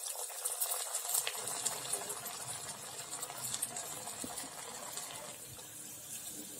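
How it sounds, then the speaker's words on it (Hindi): Kofta balls dropped one at a time into hot frying oil, giving a loud, continuous hiss and bubbling sizzle that holds steady close by, with no talk over it. "तो अब हम एक-एक करके कोफ्ते को डालेंगे और तलते जाएंगे।"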